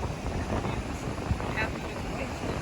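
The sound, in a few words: wind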